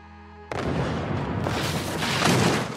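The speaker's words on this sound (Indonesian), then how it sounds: "Dentuman artileri terdengar di setiap arah, menghancurkan apapun yang dilalui." Film artillery fire at wintry Bastogne: a sudden heavy boom erupts after a quiet moment, followed by continuous rumbling blasts and crackling explosions that swell louder toward the end.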